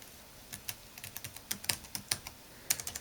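Fingers type on the keyboard of a Dell Inspiron 1525 laptop, a close, quick, uneven run of light key clicks with no voices.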